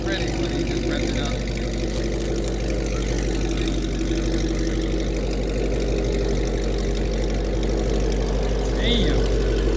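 A 2015-2017 Mustang GT with a cat delete and Corsa Xtreme exhaust idles warm, giving a steady, deep low rumble throughout. Voices are faintly present.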